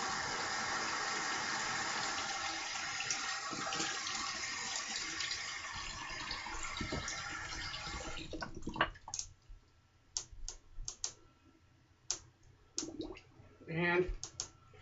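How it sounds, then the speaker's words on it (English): A tap runs for a cold water rinse after a shave, a steady close rush of water for about eight seconds that then stops, followed by scattered clicks and handling noises. "cold water rinse."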